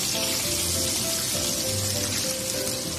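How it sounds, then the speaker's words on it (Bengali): Vegetables sizzle steadily in hot oil with a mustard seed tempering while cooking sambar, a continuous bright crackling hiss with no clear pauses. "তো এগুলোকে ভালো করে ফ্রাই করে নেব।"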